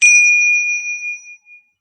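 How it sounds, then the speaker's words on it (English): A single meditation chime strikes loud and clear, its bright ringing tone sustained and slowly fading over nearly two seconds, heard alone with no talk. "I will do 1 chime"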